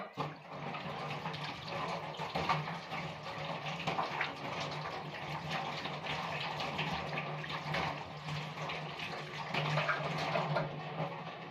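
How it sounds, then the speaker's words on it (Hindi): Steady running water from a tap with faint clinks of dishes being rinsed, continuous and moderately close, no talking. "सब मैं आप बर्तन धो रही हैं"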